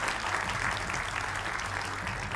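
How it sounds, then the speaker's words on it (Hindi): A studio audience at a Hindi TV news debate show applauds to welcome political party spokespeople, with continuous, even clapping from many hands throughout. "तालियों के साथ स्वागत कीजिए"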